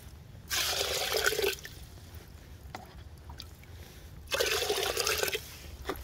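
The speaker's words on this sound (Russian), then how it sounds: "нальем сюда воды." Water pours into a bucket of expanded clay in two bursts of splashing gurgle, each about a second long and close by, with quieter rustling between them.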